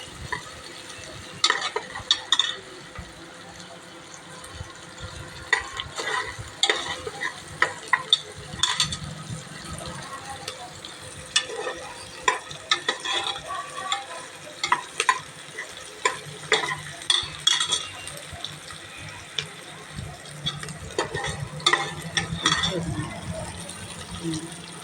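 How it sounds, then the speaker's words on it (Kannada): Onions frying in ghee and stirred for palak rice, a soft continuous sizzle broken by frequent irregular scraping and clinking of a spoon against the pan, close, with someone talking at times. "ಈ ತುಪ್ಪದಾಗ ಫ್ರೈ ಮಾಡ್ಕೋಬೇಕು."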